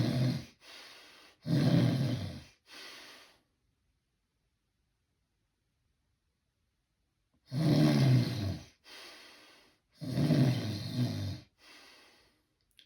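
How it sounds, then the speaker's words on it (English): Heavy snoring from a sleeper with obstructive sleep apnea: three or four loud, rasping snores in quick succession, then several seconds of total silence before the snoring resumes in another loud cluster of breaths. "So heavy snoring and then total silence."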